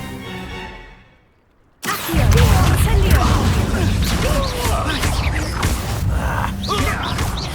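A Stupefy spell is cast in Hogwarts Legacy, loud and sudden after a near-silent gap, followed by a crashing burst of magical whooshes and impacts that stays loud for several seconds.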